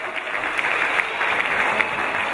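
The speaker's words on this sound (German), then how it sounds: "und einen Applaus noch einmal" Dense applause from a crowd at a mountain bike awards ceremony, a steady wash of many hands clapping, loud and continuous throughout with no speech.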